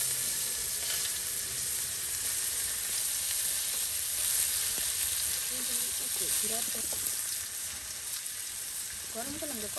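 Food sizzles in very hot oil in a village kitchen, a steady bright hiss running throughout with faint stirring clicks and a brief murmur of voice near the end.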